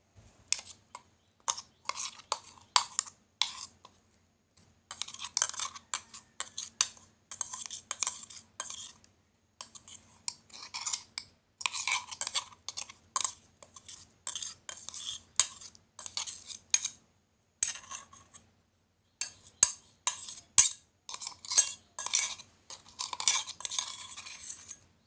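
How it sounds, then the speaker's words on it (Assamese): A spoon scrapes and clinks against a dish while spreading leftover spice paste over fish for steaming, in bursts of light metallic taps and scrapes with short pauses between them, close and fairly quiet. "এতিয়া ইয়াত বাকী ৰৈ যোৱা পেষ্টখিনি দি দিব।"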